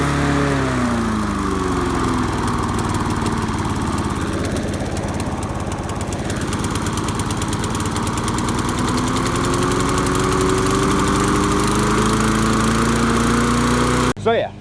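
Old lawn mower engine running on a hill with a fault that makes it cut out: a loud, steady close-up drone and rattle with a slight dip in pitch midway, ending in a sudden stop and sputter.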